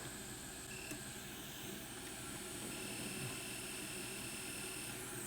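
A hot air rework nozzle blows steadily while desoldering a chip on a PlayStation 5 board, a constant close airy roar with a faint whine and no pauses.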